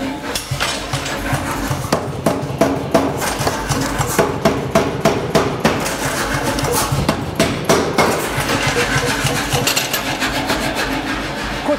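A power hammer pounds metal for medieval chainmail in a rapid, steady stream of loud, sharp strikes, close up and continuous throughout.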